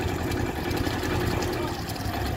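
A tractor engine runs steadily at close range on a farm while it tries to lift a downed cow, a constant low idling rumble throughout with no clear revving.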